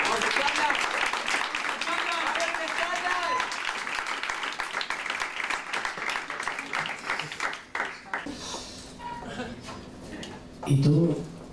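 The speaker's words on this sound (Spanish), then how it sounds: "Un aplauso para el hermano" Applause for a poet at a Spanish-language poetry reading, dense clapping running for several seconds under voices before thinning out, with a spoken voice rising near the end.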